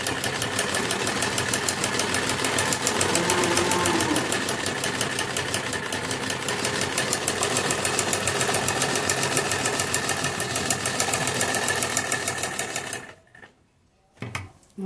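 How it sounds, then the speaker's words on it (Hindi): A sewing machine stitches a kurti's lace neckline close to the buckram in a fast, steady mechanical chatter that runs loud for about thirteen seconds, then stops abruptly with a brief final burst. "अब बिल्कुल बुकरम के जो पास पास से हम एक सिलाई लगाएंगे।"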